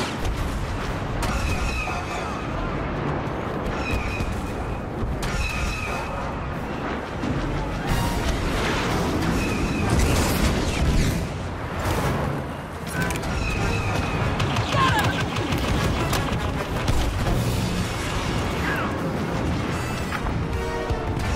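Bombing runs from rebel air support crash and boom through a dense Walker Assault battle in Star Wars Battlefront, with loud, continuous explosions and blaster fire layered over the whole stretch and game voices calling out now and then.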